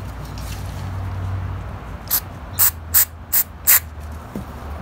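Five short, sharp bursts of spray cleaner hit a plastic PCV valve from a Toyota Corolla, fired close and evenly spaced after a quiet stretch of low background hum.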